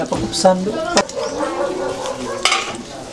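Food stirred and sautéing in a pan for adobong nukos, squid adobo, with scraping utensil strokes and a steady sizzle, while people talk over it close by.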